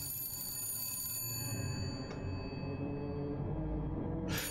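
A telephone in the video game BioShock Infinite rings with a bright electronic bell-like trill over a dense, noisy game soundscape, the ringing cutting off and returning briefly.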